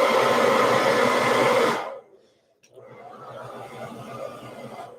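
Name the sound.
blow dryer blowing on cold feet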